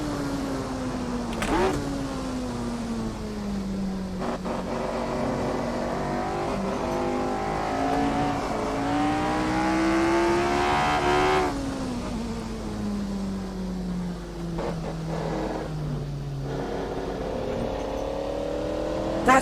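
Formula One car engine in Assetto Corsa on partial throttle, a loud close buzzing drone whose pitch sweeps up and down continuously with shifts and lifts, steady throughout with no talk.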